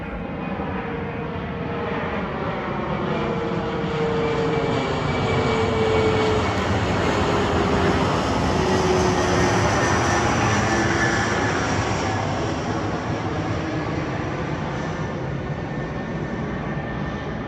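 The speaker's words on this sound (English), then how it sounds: "There's a lot of planes around here." Airplanes flying overhead near a Chick-fil-A produce a continuous loud roaring drone that swells and sustains throughout, with no voices.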